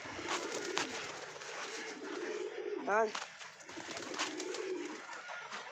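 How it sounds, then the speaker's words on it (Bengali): Pigeons coo softly nearby in a loft, one low rolling coo standing out, while a person talks briefly over the murmur. "সব পায়রাগুলো এইখানে আছে আমাদের"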